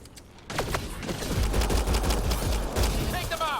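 Gunfire in the video game Mass Effect Andromeda comes in as a sustained, rattling burst of rapid shots after a brief quiet start, with sharp electronic whines and ringing tones mixed in. Background game sound and voices sit under it.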